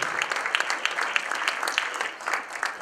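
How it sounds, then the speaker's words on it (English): A youth summit audience gives a short, fairly faint round of applause, with many hands clapping in a steady wash that is heard from a distance. "One more round of applause for Maya."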